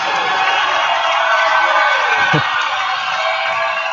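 NCAA Division II men's basketball crowd at a regional tournament game cheers loudly and continuously, a dense roar of shouting and whooping that fills the arena and stays strong throughout.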